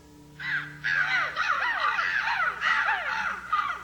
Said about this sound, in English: here come a couple of nice-looking crows